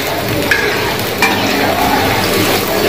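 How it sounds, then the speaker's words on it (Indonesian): Sautéing in hot oil in a pan while cooking raw banana, heard as a loud, close, steady sizzle with a couple of brief clinks from stirring. "Ini sudah saya masukkan minyak. Ditumis dulu ya."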